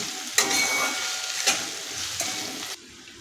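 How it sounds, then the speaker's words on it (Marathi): Chopped onion, crushed ginger and garlic sauté in hot oil in a pan, a steady bright sizzle broken by a few sharp stirring scrapes, close and alone before cutting off. "कांदा आलं लसूण चांगलं तीन ते चार मिनिट सोनेरी होईपर्यंत परतून घ्यायचं आहे"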